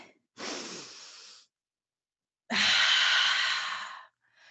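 A person draws a long, deep breath in, pauses, then pushes out a longer, louder exhale, both close up with silence between.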